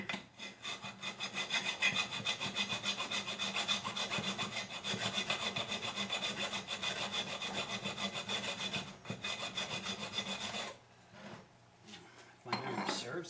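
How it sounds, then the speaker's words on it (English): A metal file works the flats of a car strut part on a 2000 Mitsubishi Mirage, rasping in steady rapid strokes up close for about ten seconds, then pausing before resuming briefly. "Just a little bit of filing and it goes on there real nice."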